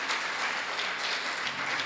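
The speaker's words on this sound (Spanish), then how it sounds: "A mí me preocupa cuando ustedes aplauden" Church congregation applauding, with dense, steady clapping from many hands that fills the room for about two seconds and has no talk over it.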